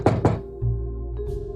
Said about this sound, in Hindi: किसी ने दरवाजा खटखटाया।